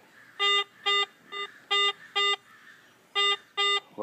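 A Garrett AT Pro metal detector sounds off over a 1996 nickel, giving a series of loud, clear electronic beeps in a quick uneven rhythm of about eight pulses, close up with no talking.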